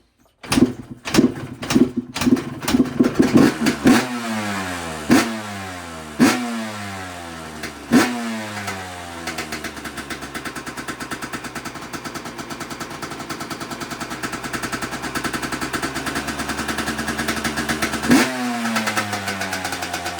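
A 2011 Yamaha YZ125 two-stroke dirt bike, run with the choke off, fires up after a few sharp kicks and pops, then revs in several loud blips and settles into a high, buzzy, steady idle close by.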